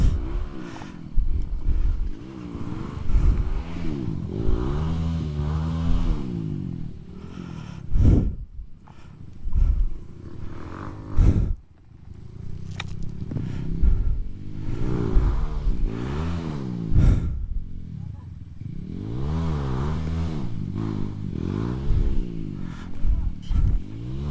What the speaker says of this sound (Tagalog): may galit na motor na naman doon